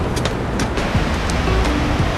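Heavy rain pours at Jeonbang Falls on Jeju Island, a steady broadband roar of falling water and rushing waterfall that stays loud and continuous throughout, with no voices over it.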